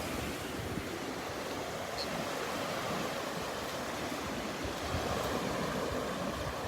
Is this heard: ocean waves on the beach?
yes